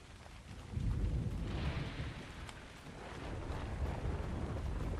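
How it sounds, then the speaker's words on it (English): A thunderstorm weather effect in the game Ark Survival Ascended, with a steady low rumble of rolling thunder and rain that swells and eases, heard alone and fairly close. "right now, we've got a storm going on"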